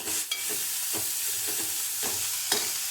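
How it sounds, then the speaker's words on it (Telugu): Food cooking slowly in oil in a pan, giving a steady bright sizzle with a few soft stirring scrapes and taps spaced through it; no one speaks. "ఇట్లా ఆయిల్లో మగ్గితే చాలా టేస్ట్ ఉంటుంది"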